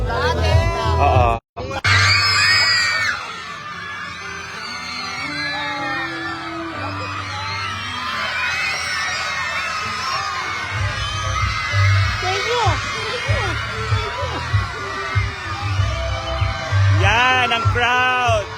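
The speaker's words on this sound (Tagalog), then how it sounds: "Yan ang crowd." A parade crowd in Ballesteros, Cagayan cheers and whoops in loud, ongoing bursts over low rumbling background noise, with people talking and calling out nearby.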